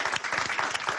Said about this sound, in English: I'm going to ask all of you to give Representative Allred a round of applause.